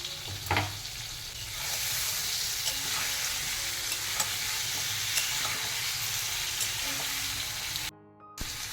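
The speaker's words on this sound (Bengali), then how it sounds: "একটু নুন একটু হলুদ দিয়ে আলুগুলোকে ভাজবো।" Potatoes frying in a pan with salt and turmeric, a steady close sizzle with stirring scrapes throughout, cutting out briefly near the end.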